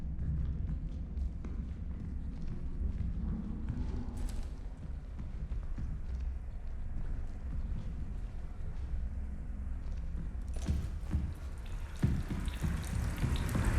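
Water pours and trickles steadily inside a video game, a continuous running, dripping wash that swells louder near the end with a few sharper splashes.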